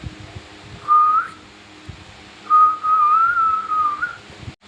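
A person whistles to draw a peacock out of hiding, two clear rising and wavering whistles, the second longer, over faint outdoor rustling.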